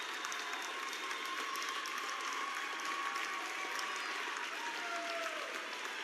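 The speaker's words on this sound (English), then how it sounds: "fans from both teams rise to their feet to applaud" Crowd of basketball fans from both teams at a boys' high school game applauds a player's 1,000th career point, steady sustained clapping and murmur filling a gym, heard somewhat distant.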